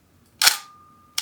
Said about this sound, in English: when you listen to the shutter of an analog camera, it relaxes me